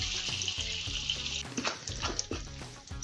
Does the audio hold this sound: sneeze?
no